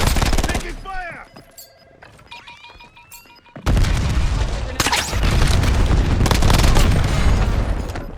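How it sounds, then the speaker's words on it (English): Heavy gunfire in the video game Warzone: after a few seconds of quieter game sounds, loud sustained bursts of shots and booms fill the rest of the clip, close and dense, continuing without pause. "Taking fire!"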